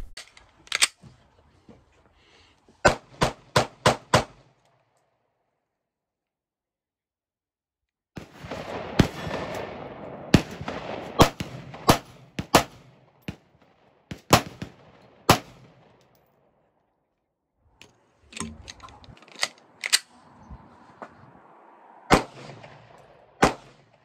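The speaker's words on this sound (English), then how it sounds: "I really enjoy shooting this handgun." A CZ P10c handgun fires loud, sharp shots in quick strings of several rounds, separated by short pauses and one longer gap, with no voices over the shooting.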